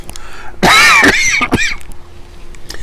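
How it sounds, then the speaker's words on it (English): A single close, harsh cough, loud and brief, with faint room noise before and after. "That little cough right there is the extent of my symptoms today."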